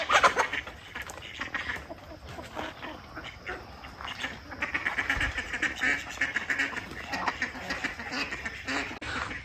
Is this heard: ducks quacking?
yes